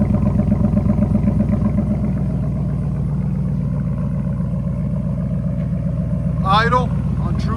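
A 2019-or-later RAM 1500 with the 5.7L Hemi V8 idles on a true dual exhaust with 3-inch mid pipes and 6-inch tips, a deep, steady, rumbling burble that stays constant throughout, while a brief voice chimes in near the end.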